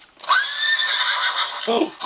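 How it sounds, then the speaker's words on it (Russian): A horse on a farm gives a loud, close neigh, a high quavering whinny lasting over a second and ending in a short snorting tail. "Лошади, круто."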